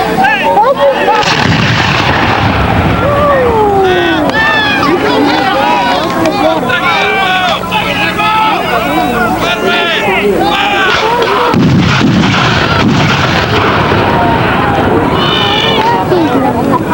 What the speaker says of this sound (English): He has to calculate the distance of the enemy, holler back the distance, ask for the certain type of loads, and then give the command to load and fire.